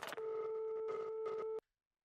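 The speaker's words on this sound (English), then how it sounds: "It's like dial-up internet or yeah, it's like dial-up." An electronic anime sound effect like dial-up internet or phone tones plays as a steady held tone with warbling bursts over it, lasting about a second and a half before stopping abruptly.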